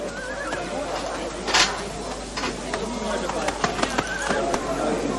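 Several racehorses whinny and snort at the racecourse starting stalls, with hooves shifting and clattering nearby while people talk over the commotion.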